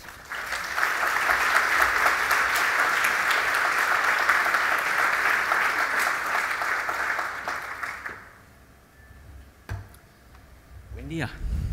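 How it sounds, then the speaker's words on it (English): A warm round of applause greets a speaker at an ATBC 2017 conference talk, sustained and full for about eight seconds before it drops off abruptly into quiet room tone with a few stray sounds. "please welcome Dr. Chatters with a warm applause"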